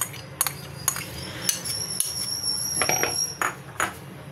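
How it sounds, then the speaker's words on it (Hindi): A spoon clinks against a bowl as three or four spoonfuls of yogurt go in to start a spice marinade. The taps are close and irregular over a faint background hiss. "तीन चार चम्मच दही के सबसे पहले शामिल करते हैं।"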